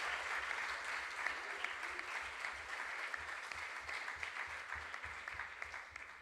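An audience at a regional junior science and maths quiz contest in the Ashanti Region claps for a competing school team, a fairly faint but steady wash of applause from a crowd that carries on throughout.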